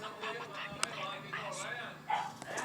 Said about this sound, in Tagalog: magpapakain tayo ng aso sa labas